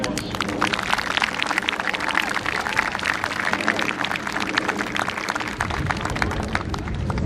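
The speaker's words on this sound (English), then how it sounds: "You should all give yourself a large round of applause" Dense, sustained applause rings out for young female soccer players and their coaches at a charity soccer event, a steady wash of many hands clapping throughout.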